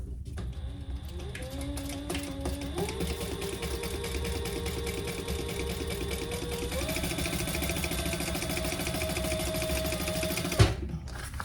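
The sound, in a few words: sewing machine top stitching a bag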